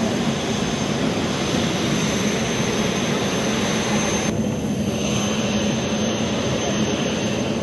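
Steady loud roar of a jet engine while boarding a domestic flight in Papua New Guinea, a continuous broad whine and rumble close by with no talk.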